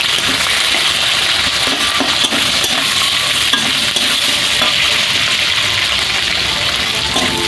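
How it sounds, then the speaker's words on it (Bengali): Carrot, capsicum, onion, ginger and green chili fry hard in a pan with a loud, dense, continuous sizzle and faint stirring scrapes, close and without talk. "এই সবজিগুলোকে আমি সব ভালো করে আগে ভেজে নেব।"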